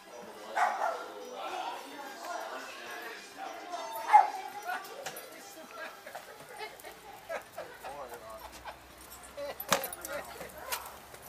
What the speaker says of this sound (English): He's barking at everybody